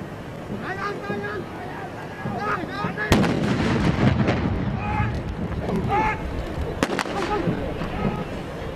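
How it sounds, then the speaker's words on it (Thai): Shotgun door breaching and a flashbang stun grenade during a Navy special warfare SEAL team military demonstration: two sharp loud blasts about four seconds apart over a noisy outdoor crowd, with someone talking throughout. "มาใช้ลูกซองบิชเชอร์ในการทำลายประตูแล้วก็โยนแฟลชแบงค์หรือระเบิดแสงเสียงนะครับเข้าไปเพื่อช็อตศัตรู"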